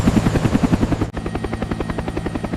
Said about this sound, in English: Smoke filled the sky as helicopters arrived overhead.